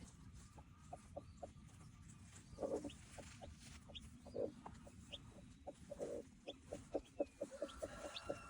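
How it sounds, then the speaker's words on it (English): Soft clucking and faint peeping from young chicks, irregular and quiet, with small chirps scattered throughout. "I hear chirping."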